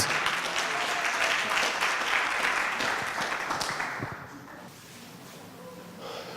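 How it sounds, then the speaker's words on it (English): Loud crowd applause, many hands clapping steadily, swelling then tapering off after a few seconds into a quieter room with scattered claps. "let's give a warm round of applause for Sir Bentley Wilson"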